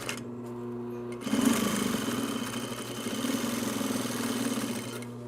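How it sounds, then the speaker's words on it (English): Sewing machine back stitching a shoulder bag during apparel construction, a steady mechanical whir that starts abruptly after a brief quieter hum and runs continuously and fairly loud to the end. "Now you want to back stitch after the first 3 stitches."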